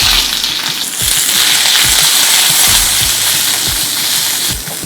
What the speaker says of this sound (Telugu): 1 ఉల్లిపాయని పొడవుగా కట్ చేసుకొని వేసుకోవాలి.